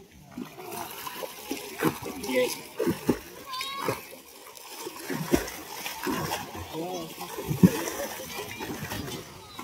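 Water splashes in an outdoor swimming pool as a swimmer pushes the water back with the arms and kicks both legs up and down, irregular nearby sloshes and splatters mixed with a voice and other people talking.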